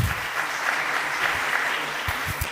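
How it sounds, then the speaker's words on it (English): Audience applause for a milestone during a live radio contact with an astronaut on the International Space Station in Kenya, a steady crowd clapping at moderate distance that holds for a few seconds. "A round of applause for that milestone."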